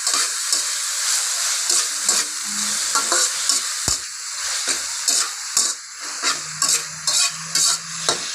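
Wild boar stir-fry, a spicy pork dish, being stirred in a hot pan: close sizzling hiss punctuated by repeated scraping and clanking of a spatula against the metal.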